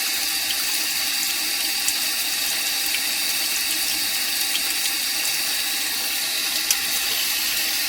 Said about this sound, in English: I'm going to run cold water on the top